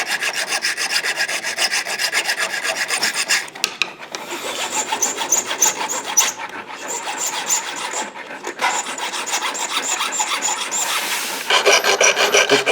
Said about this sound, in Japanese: こっち側とあと反対側をヤスリで削ります。